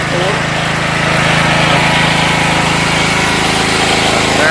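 A Tekster TK8500E 7.5 kW petrol generator runs steadily at close range, a loud, even engine drone with no breaks or changes over the whole stretch.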